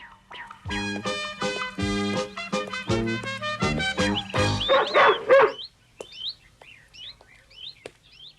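A dog named César barks and yelps in an animated cartoon scene, several sharp calls bursting over loud music, followed by fainter chirpy yaps.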